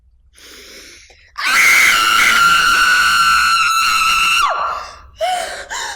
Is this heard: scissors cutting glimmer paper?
no